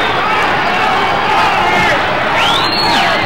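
Boxing crowd at a WBC super bantamweight title fight chanting and shouting for a fighter, a dense, loud, continuous roar of many voices filling the arena.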